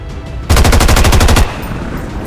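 A rapid automatic burst of gunfire in XCOM 2: War of the Chosen, about ten evenly spaced loud shots over roughly a second, close and alone, followed by a low lingering tail.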